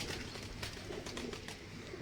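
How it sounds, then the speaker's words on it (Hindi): A Salara pigeon, its wings clipped, gives soft, close cooing amid low background rustle. "सलारा पर ये कबूतर है, सलारा कबूतर है इनका"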